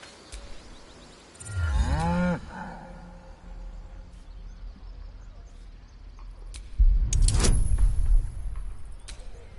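An ox in a video game gives a low, drawn moo early on, followed later by a sharp rising sound amid rumbling ambience and faint hoof-like clatter.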